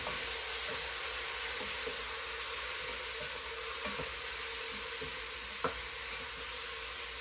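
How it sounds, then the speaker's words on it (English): Ham and cabbage stir-frying in a pan give a steady, dense sizzle close by, with faint scrapes and one sharper clack from stirring partway through, and no talk. "You can really hear that thing is sizzling there."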